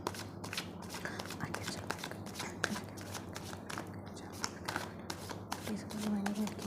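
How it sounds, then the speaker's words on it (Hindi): Tarot cards shuffled by hand, soft rhythmic riffling and flicking repeated steadily up close while a person talks over it. "जब तक हम कार्ड शफल करते हैं रीडिंग स्टार्ट करेंगे"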